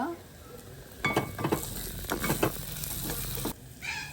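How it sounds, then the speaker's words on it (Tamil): Curry leaves hit hot oil and burst into loud crackling sizzles with stirring scrapes, after a quieter start, then ease off near the end as a fresh spatter begins. "கருவேப்பிலை போடுங்க."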